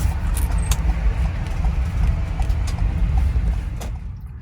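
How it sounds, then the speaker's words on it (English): A van pulling into a parking lot, its engine a steady low rumble with road noise and light rattles, close and fairly loud, slowly easing off toward the end. "I'm pulling right into here."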